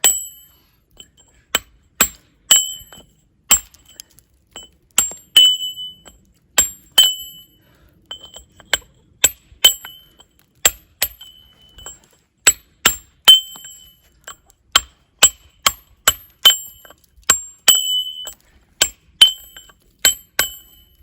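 Light hammer taps on a tracing chisel dressing granite, trimming off drill marks: sharp, bright metallic clinks in an uneven series of single and paired strikes, close and clear against silence.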